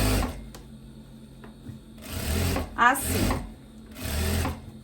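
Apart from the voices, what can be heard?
sewing machine topstitching a dress side seam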